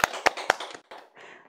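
A few people clap their hands at a small Christian parents' discussion meeting: three quick, sharp claps close together, then a softer, scattered trail fading out.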